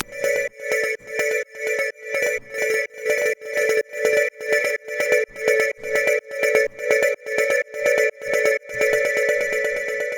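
Synth arpeggiated sequence driven by a chord trigger in a progressive house style, playing a steady sixteenth-note pattern of bright, repeated chord stabs with a pulsing rhythm, loud and alone throughout.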